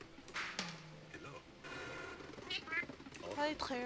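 A cat meows and purrs in the video game Friday the 13th. Several short cries and a rumbling purr are heard close by, mixed with voices talking.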